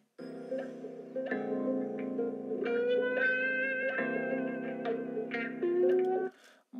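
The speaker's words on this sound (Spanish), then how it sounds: "Pues así como suena la guitarra, pues ese efecto se llama gua." An electric guitar with a wah effect plays a sustained, sweeping melodic line for several seconds, with the tone opening and closing as the notes bend, loud and alone with no talking.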